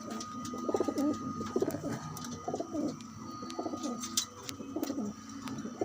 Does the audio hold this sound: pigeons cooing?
yes